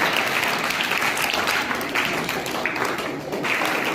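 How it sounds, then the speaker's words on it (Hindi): A seminar audience gives loud, dense applause, with many hands clapping together continuously and evenly for several seconds and no speech over it. "जोरदार तालियां देने के लिए"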